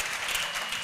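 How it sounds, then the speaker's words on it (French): Brief, fairly quiet burst of crowd acclamation at an evangelical salvation and healing crusade in Bafoussam, a dense clapping-like wash that holds steady throughout. "Acclamation."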